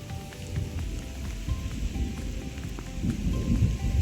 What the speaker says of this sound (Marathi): बघताय ढगात गडगडत आहे